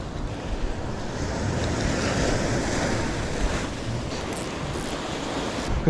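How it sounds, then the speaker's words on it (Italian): Long, slow sea swell rolling in open water, heard from a fishing boat at sea: a steady, broad wash of surf and water with wind noise over the microphone, continuous and fairly loud throughout, no voices. "Questo mare lungo respira che è una meraviglia, respiro lento, regolare"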